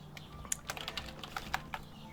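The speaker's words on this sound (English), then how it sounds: "This is where you would just type your code in," Code typed on a computer keyboard: a quick, uneven patter of light key clicks, close but quiet, with no speech over it.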